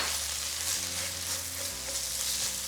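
Chipotle chiles being stirred into chorizo cooking in a pan, with a steady, close sizzle of frying meat and soft scraping from stirring running without a break and with no talk.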